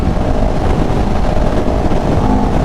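A CFMOTO CLX700 motorcycle engine revs hard in sport mode, a loud, steady, broadband roar with wind buffeting, continuous and close throughout.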